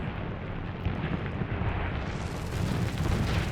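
Ship's shell striking a Mitsubishi A6M2 fighter in War Thunder, a heavy rumbling blast with crackling debris over steady engine drone, loud and continuous.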